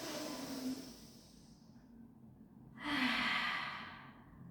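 A big breath in and out during a rehab pilates exercise, two long airy breaths, close and fairly soft, with a steady low background hum.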